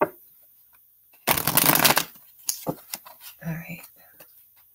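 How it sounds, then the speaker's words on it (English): A burst of shuffling of large tarot cards riffles briefly, followed by a few soft taps and handling noises as a voice whispers nearby. "They're hard to shuffle because they're big."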